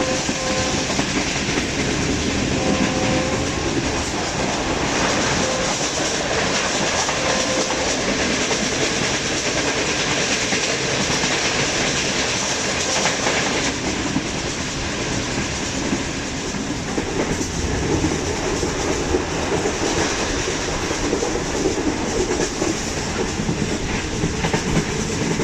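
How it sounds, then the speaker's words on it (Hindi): The Green Line Express passenger train rolls steadily across the Alexandra steel bridge over the Chenab River, a loud continuous rumble with rhythmic wheel clatter and steel resonance, heard from inside without any talk. "गुजरात के बाद ट्रेन ने अलेक्जेंड्रा ब्रिज को क्रॉस किया, जो दरियाए चिनाब पर बना स्टील का ब्रिज है।"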